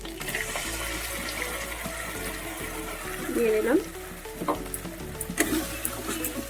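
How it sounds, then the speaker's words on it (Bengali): Green pea paste fries with spices in a pan while being stirred, giving a steady sizzle with scraping, clattering bursts in the middle and near the end. "আমি কষিয়ে নিচ্ছি মশলার সাথে"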